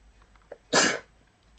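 A single short, sharp cough from a lecturer with a sore throat, heard close up in a quiet room during a biology lecture.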